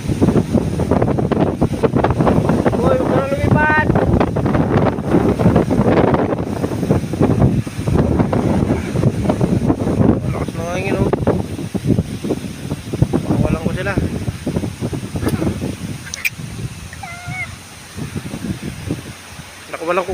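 Strong wind gusts around a yard where pigeons have just been released, roaring across the microphone in rough, uneven bursts while someone talks over it and birds chirp faintly at times.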